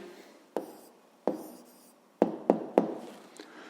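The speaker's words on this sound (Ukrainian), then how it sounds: "записуємо тоді відповідь" Pen strokes of someone handwriting the answer to a fifth-grade math exercise, a few sharp taps and scratchy marks spaced irregularly, close and fairly quiet with no talk.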